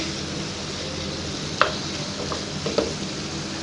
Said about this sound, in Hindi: तो यहाँ पे हम इसकी अच्छे से भुनाई कर लेंगे।